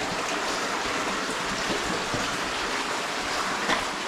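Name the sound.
water flowing in a cave stream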